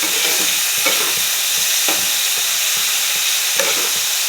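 Ginger paste and omelette pieces frying in oil in a pan, with a steady close sizzle and soft irregular scrapes from stirring.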